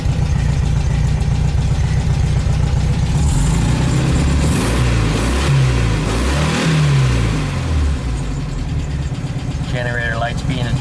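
A Volkswagen Beetle engine runs steadily after a distributor and throttle-cable tune-up, a loud, continuous low rumble with some revving swells, close by and filling the whole stretch with no talk.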